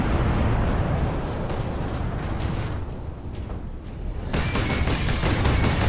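Continuous heavy gunfire from a Warhammer 40,000 Space Marine video game, a dense rattling burst that eases briefly in the middle before resuming loudly, with no talk over it.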